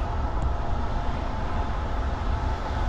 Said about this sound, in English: The manifest train.